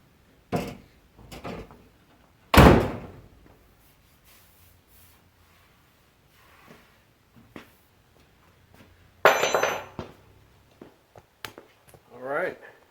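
Door on a 1970-1981 Camaro swung and shut, with a sharp close thump, another slam and scattered latch clicks and rattles between quiet stretches.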